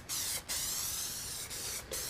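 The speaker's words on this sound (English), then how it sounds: "Now I'm just going to take my spray again and go over it again." Aerosol spray can hissing over a clay skull mold, a near, steady hiss in bursts with three short pauses between sprays, no talking.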